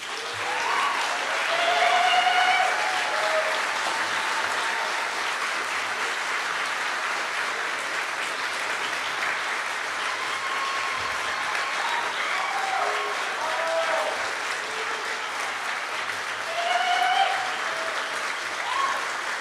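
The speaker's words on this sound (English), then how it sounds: "I would really like to ask all the members of the class of 2026 to stand up one more time for a round of applause" An audience at a Geisel medical school white coat ceremony gives the class of 2026 a long round of applause: sustained, full crowd clapping lasting nearly twenty seconds, with scattered voices and cheers mixed in.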